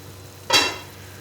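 A single brief burst of sizzling and stirring rises sharply from a pot of frying onions for chana daal, then fades back to a quiet background hiss.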